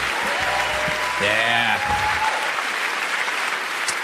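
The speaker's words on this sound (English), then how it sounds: "How about another round of applause for Mr. Todd Glass and young Dean Crow?" Comedy-club audience bursts into loud, dense applause with cheering, a steady wash of clapping that fills the room while a voice briefly calls out over it.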